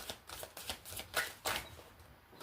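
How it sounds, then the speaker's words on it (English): A deck of tarot cards is shuffled by hand at close range, a series of rapid riffling and sliding bursts in an uneven rhythm, with no voices. "Now, I shuffle them and we see who jumps out"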